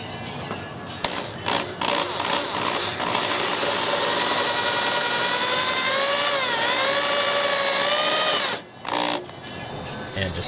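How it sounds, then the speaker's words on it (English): A power drill bores out the center of a wooden router table fence, whining loudly and steadily for several seconds with a pitch that sags under load, framed by short bursts of drilling before and after. "So I just drill that center part out too."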